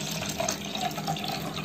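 Water is poured for a children's colour-mixing experiment with blue and yellow colouring, a brief, steady, close splashing fill with no talk over it.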